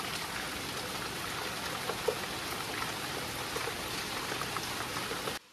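Heavy rain pours steadily as a dense, even hiss, continuous and unbroken until it cuts off abruptly at the end.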